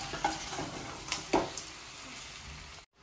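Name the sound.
chicken frying in a pan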